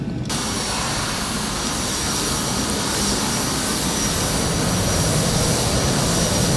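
A Cessna Citation II business jet in the Prepar3D flight simulator on approach to Cancun, its engines giving a steady, loud broadband roar and hiss that holds even throughout, with no voices.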